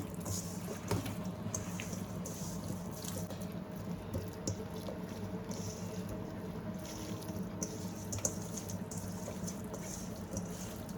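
Water running and splashing in a kitchen sink as rice is washed and mixed with spices for mandi rice, a steady close wash of flowing water with small drips and clinks.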